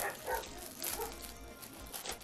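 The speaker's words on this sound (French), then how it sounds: "excusez-moi pour mes chiens hein, qui aboient" Pet dogs bark indoors, a few short yips and woofs scattered through a couple of seconds, moderately close but not loud, with no speech.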